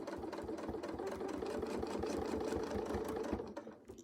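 Quilting sewing machine stitching a curve along a Westalee circle ruler, a steady close mechanical whir with fast regular needle pulses that slows and stops near the end.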